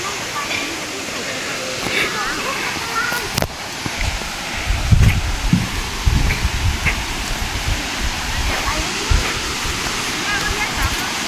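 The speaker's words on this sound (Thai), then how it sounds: "แต่ในนี้เสียงน้ำไหลอยู่น้ำตกอยู่" A waterfall rushes continuously nearby at a campsite, a steady broad hiss of falling water, while a person talks over it.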